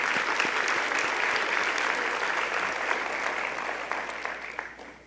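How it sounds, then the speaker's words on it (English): A crowd at a schools address applauds the board of education, a full, sustained round of clapping that stays strong before tapering slightly near the end. "Can we give our board a round of applause for their exemplary work?"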